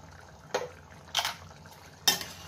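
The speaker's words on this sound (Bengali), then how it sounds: "আর এটাকে নাড়াচাড়া করে দিলাম।" Potato and ripe plantain vegetable curry in a pot, stirred with a utensil: three separate sharp metallic clanks against the pot over a low simmering background, close and fairly loud, nobody speaking.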